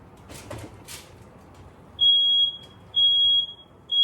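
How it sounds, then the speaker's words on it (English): Three loud, steady high-pitched smoke alarm beeps in a kitchen during baking, each about half a second long, following a few soft rustling sounds. "now the alarm goes off."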